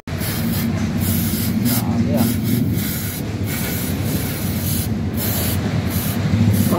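A can of CVT cleaner sprays in a loud, steady, close hiss onto the CVT of a Motorstar Easyride 150FI scooter, continuing almost unbroken for several seconds.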